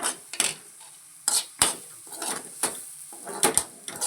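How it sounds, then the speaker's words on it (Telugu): Eggs are beaten in a pan over a high flame for egg fried rice, with repeated close metallic clinks and scrapes of utensil on the pan in an irregular rhythm, no talking. "సో ఇప్పుడు దీన్ని మనము బీట్ చేయాలి ఇది ఐ ఫ్లేమ్లో చేయాలి"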